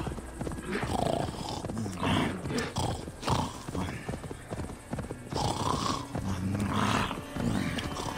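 A horse gallops in the video game Assassin's Creed Valhalla, with steady rapid hoofbeats and an occasional whinny under game ambience while a person talks over it.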